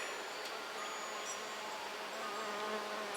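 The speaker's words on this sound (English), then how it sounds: "There's a bee just flying around my hand right now" A bee buzzes close around a hand outdoors at a house with a view, a steady droning hum that holds for several seconds with no voices.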